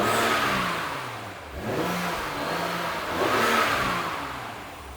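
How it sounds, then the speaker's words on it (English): A BMW E30 engine is revved a few times, its tone rising and falling in two or three swells over a steady idle, close and fairly quiet, with no talk. "Give her a couple revs."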